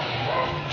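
A dog playing with a thrown ball on the street outside a house gives a single short, close yip or bark.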